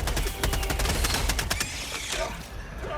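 Rapid automatic gunfire in the co-op shooter video game Helldivers 2 rattles in a dense, fast stream of close shots for about two seconds, then trails off into softer rumble and scattered noise.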